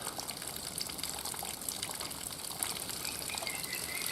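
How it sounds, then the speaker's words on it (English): Water pours steadily onto very dry soil made mostly of cow manure with some clay topsoil, a continuous close gushing and splashing wash with no talking. "It bubbles up a little bit. The bubbles just come up completely dry soil. It's so dry that the water just beads off it."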